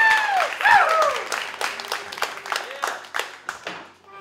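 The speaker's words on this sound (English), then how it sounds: "Everyone clap." Wedding guests clap in a short burst of scattered applause, with whoops and cheers from the crowd at the start, then a few individual claps trailing off.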